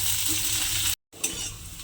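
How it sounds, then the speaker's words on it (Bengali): Sliced onion fries in a pan of oil until browned for a ridge gourd dish, giving a loud, close, continuous sizzle with stirring scrapes that cuts out for a split second before resuming. "পেঁয়াজটাকে কিন্তু আমার খুব ভালোভাবে লাল করে একটু ভেজে নিতে হবে"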